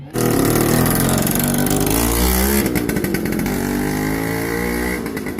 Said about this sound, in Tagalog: para kahit papano madinig natin yung tining ng makina